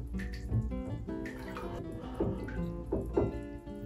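Water fills a tub where dog fur is soaking, with gurgling, bubbling and dripping sounds that rise and fall unevenly, close and moderately loud, without talk.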